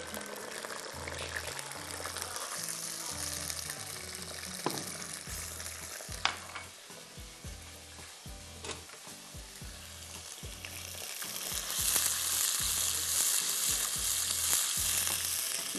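Onions fry in a pan with ground green chilli and a splash of water, sizzling and crackling steadily up close, with occasional stirring clinks and a louder hiss building toward the end.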